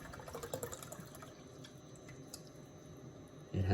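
Water splashes and drips as it is poured out of a crushed Coke can, a faint, irregular trickle with scattered droplets and a louder burst right at the end.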